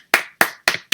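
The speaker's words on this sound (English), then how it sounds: "round of applause to Rice Ryan for that speech" Several sharp, evenly spaced hand claps ring out close by, each snapping loud and then quickly fading into silence.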